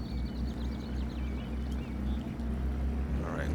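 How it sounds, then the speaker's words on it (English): Steady low rumble of a tractor engine in a farming video game, driving along tight farm lanes, a continuous droning hum with faint higher mechanical whines over it and no talk. "This tractor doesn't turn very sharply, so it's not the best tractor for these tight lanes."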